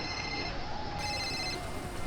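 A phone ringtone plays, steady electronic tones with a change in melody partway through, heard alone.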